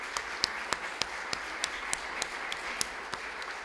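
An audience at a regional documentary heritage panel claps in a soft, thin round, with a handful of sharper individual claps standing out at a moderate distance.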